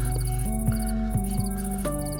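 Crickets chirping in modded Minecraft (MC Eternal), a steady loud shrill pulsing trill that repeats in regular bursts, close and alone without talk.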